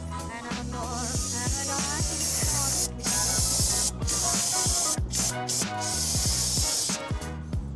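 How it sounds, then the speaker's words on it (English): Aerosol brake cleaner sprays onto car brake parts during a brake system overhaul on a Nissan 370Z Nismo, a loud continuous hiss broken by several short pauses between bursts, close to the microphone. "Give it a little spray down."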